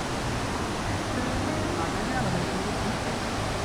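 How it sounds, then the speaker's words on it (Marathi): A waterfall near rice fields roars as a broad, steady rush of water that sounds close and loud, with a voice speaking faintly beneath it. "धबधबा"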